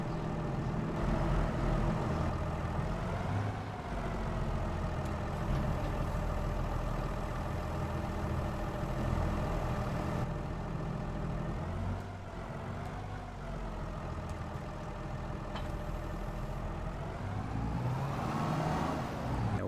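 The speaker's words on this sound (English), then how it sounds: "Park this tractor in the driveway here." Tractor engine in Farming Simulator 22, a continuous low idling rumble that holds steady throughout with slight pitch shifts, close and alone.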